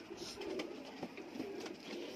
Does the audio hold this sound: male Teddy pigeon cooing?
yes